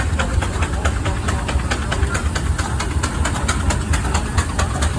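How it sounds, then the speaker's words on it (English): A steam traction engine at an antique tractor parade chugs steadily with regular rhythmic knocks over a low rumble, running continuously and fairly loud. "Nice steam traction."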